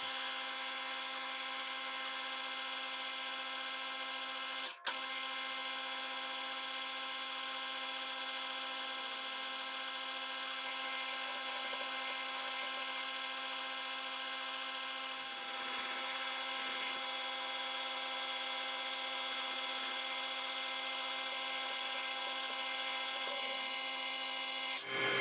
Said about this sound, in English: start drilling and boring.